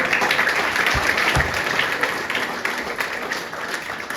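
A crowd at a presentation on a professional player pathway breaks into warm, sustained applause, with many hands clapping at once close by.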